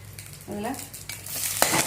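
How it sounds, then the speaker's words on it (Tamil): Green chillies and curry leaves sautéed in a pan, a soft sizzle with a couple of scraping stirs and brief utensil clinks, close and fairly quiet. "பச்சை மிளகா, கறிவேப்பிலை போட்டு வதக்கிட்டு"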